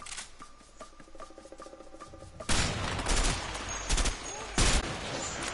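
Gunfire in the co-op video game A Way Out during a hospital escape chapter: a quiet stretch gives way to loud, dense bursts of shots, several sharp peaks standing out over the din.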